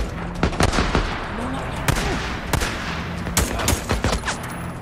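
Gunfire in the zombie game Days Gone while taking out a sniper: a run of sharp, loud shots at irregular intervals with some rapid bursts over a busy background of game ambience and faint voices.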